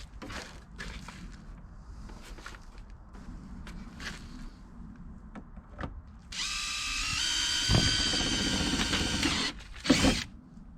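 A power drill bores holes to mount a fender flare on a vehicle, first faint handling and tapping, then one sustained loud whine of drilling lasting a few seconds, followed by a short clunk.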